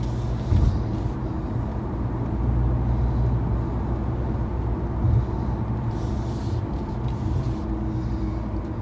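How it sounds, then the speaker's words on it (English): Interior cabin drone of a 2022 Mercedes-Benz A220 on the move, a steady low road and engine rumble with occasional light bumps, continuous and moderately loud with no talk. "that is driving the 2022 Mercedes A220"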